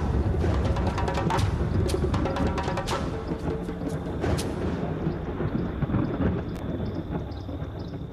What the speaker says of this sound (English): the massive electrical storm that went on all